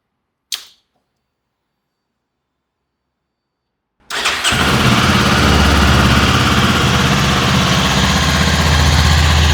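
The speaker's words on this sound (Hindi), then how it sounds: "अब एक बार बाइक को ऑन करके देखते हैं।" A 2026 Kawasaki Ninja 500 twin-cylinder motorcycle engine starts after a short click and a pause, then settles into a loud, steady, close idle that continues to the end.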